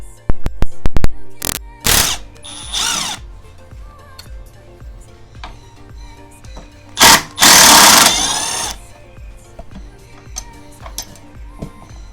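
A 3/8 drive ratchet removes a bolt from a Toro Timemaster mower. Sharp metallic clicks and short bursts of rapid ratcheting come in uneven spurts, with quiet pauses between them.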